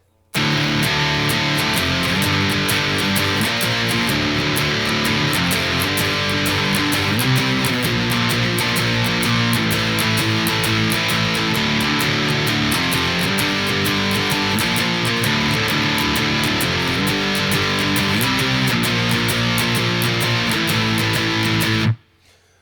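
Loud, dense electric guitar chords of the chorus of a song strummed with heavy distortion, a sustained wall of sound running steadily for about twenty seconds before stopping abruptly.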